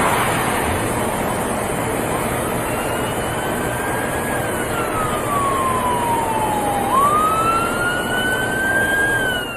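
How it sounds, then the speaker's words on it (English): A wailing ambulance siren sweeps up and down over steady traffic rumble in Columbia County, Florida, growing louder as it approaches and passes, then shifting pitch as it moves away. "ambulance goes by right here and it gets pretty loud"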